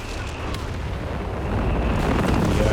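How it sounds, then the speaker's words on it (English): Allied artillery fire in Company of Heroes 3 during a 4v4 match on the Sousse map, heard as a dense, continuous low rumble of distant booms that swells slightly toward the end, with no talk. "The Allied artillery seems to be popping off right now, getting some solid hits"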